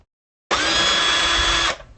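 A power drill backs out pickguard screws on a 1989 Squier P-Bass, one steady high whine lasting about a second after silence, then quickly winding down.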